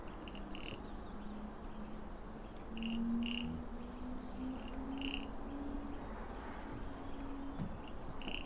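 Crickets chirp at night in faint, repeating high pulses above a low steady hum, with no talking.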